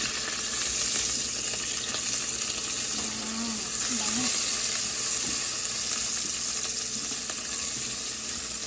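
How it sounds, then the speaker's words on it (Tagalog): Onions frying in a pan while cooking tinola give a steady, dense sizzle that runs throughout, with faint stirring scrapes and a little background speech mixed in. "Yan, dahil brown na siya, lagyan natin yung sibuyas."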